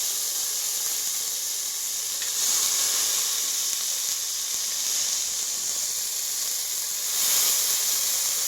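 Soaked Byadgi red chillies fry in a pan with a steady, close sizzle and hiss that carries on throughout, swelling slightly in two places.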